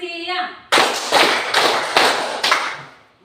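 Students in a classroom clap a rhythmic call-and-response game, a teacher's voice briefly before a burst of loud, sharp group claps repeating in roughly even beats that fade at the end.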